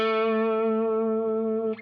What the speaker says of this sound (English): Listen to what it sounds like with a pick